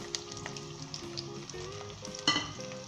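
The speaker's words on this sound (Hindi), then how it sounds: "उसके बाद इसके अंदर हम प्याज शामिल कर देंगे।" Onions fry in vegetable oil in a deep pan with a soft, close, continuous sizzle and crackle, broken by a few light stirring scrapes and one sharper burst near the end, no voices over it.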